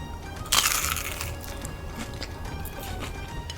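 A single crunchy bite into a Korean street-food rice cake skewer coated in sauce and peanuts, one sharp close crackling crunch followed by quieter chewing, no talking.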